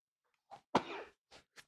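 A single short sneeze, quiet and close, with a couple of soft breathy bursts before and after it in an otherwise silent room.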